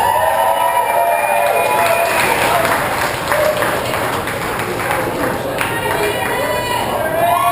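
A crowd claps and cheers at a Flowrider bodyboarding contest awards ceremony, the applause steady and fairly close, with voices talking over it.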